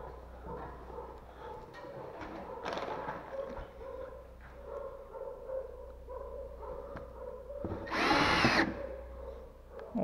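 Power drill driving screws into gypsum plasterboard on a beam enclosure, faint whirring under room noise, ending in a loud short burst of drilling near the end; a dog barks faintly.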